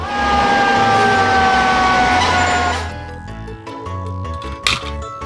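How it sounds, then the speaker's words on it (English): A red toy fire engine blares its electronic siren loudly and steadily for nearly three seconds, then gives way to quieter toy beeps and clicks with a sharp knock near the end. "Red fire engine."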